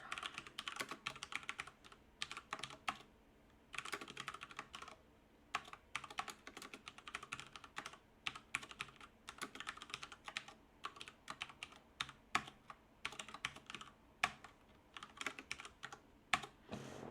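Typing on a computer keyboard, a quiet, close run of rapid key clicks in bursts with brief pauses between.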